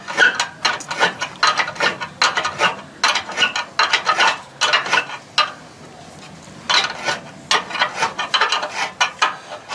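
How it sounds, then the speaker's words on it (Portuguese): Screws being tightened on a rooftop to mount a solar panel kit, a rapid series of ratcheting clicks in close bursts, with a brief pause midway before the clicking resumes. "É exatamente acochando o parafuso, né?"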